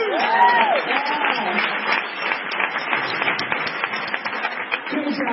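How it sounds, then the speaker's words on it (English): Crowd applause at an MS Bike Ride gathering, sustained clapping from a room full of people, with a voice speaking over the start and a brief squeal of audio feedback. "please join me in a very nice round of applause for those lonely volunteers"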